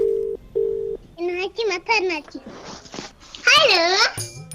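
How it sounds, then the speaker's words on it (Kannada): A phone rings twice with short electronic tones, followed by a brief burst of rising and falling synthetic tones and a caller tune. "ಬನ್ನಿ ನಾವು ಈಗ ಕಾಲ್ ಮಾಡ್ತಾ ಇದ್ದೀವಿ ಜೈಶೀಲಾಗೆ."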